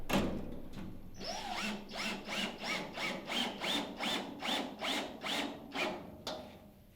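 An electric drill whirs in a rapid series of short, evenly spaced bursts while drilling a front hat channel on a 1943 Willys MB jeep, each burst rising and cutting off, loud and close with no talking.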